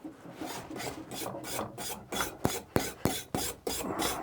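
Stiff brushing of aluminium alloy before welding, with steady rasping strokes that become sharper and more rhythmic, about a dozen scrapes close to the listener.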